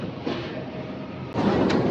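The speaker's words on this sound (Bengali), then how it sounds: "আমাদের ট্রেন এখন জঙ্গলের মধ্যে দিয়ে যাচ্ছে" A resort toy train rolls along through a wooded stretch, giving a steady close rumble with a louder surge near the end and no talk over it.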